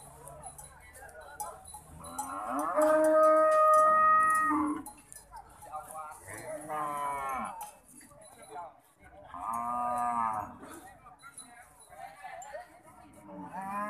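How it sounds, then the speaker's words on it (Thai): Cattle low repeatedly at a cattle and buffalo market, several long moos rising and falling at moderate distance, with people talking faintly in the background. "เอาทั้งวัวทั้งควายมาขาย"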